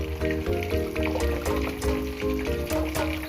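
A spoon stirs garden egg into a pot of banga soup, making a close, busy swirl of liquid sounds with light clinks, loud and continuous, with no voices.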